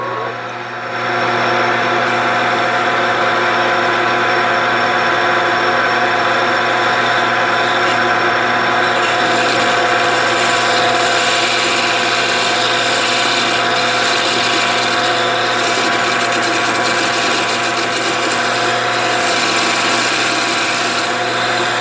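A lathe with a hand-fed boring bar and WNMG trigon insert cuts metal, producing a loud steady mechanical drone with tonal machine whine for a long stretch after spinning up.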